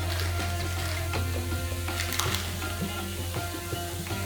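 Mango chutney sizzles in a pan as spices, chili flakes and garam masala are stirred in, a continuous frying hiss with soft scraping stir strokes, close and steady.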